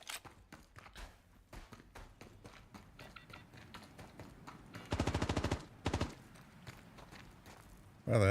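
Video game gunfire in Star Citizen comes as a rapid automatic burst around the middle, then a shorter second burst, amid scattered clicks and thuds and ending in a loud rumble.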